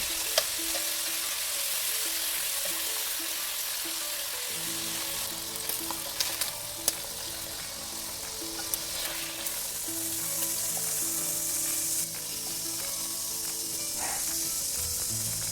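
Garlic sautéing in a pan for pork chops, a steady close sizzle of frying with occasional stirring scrapes and clicks, continuous throughout with no talk.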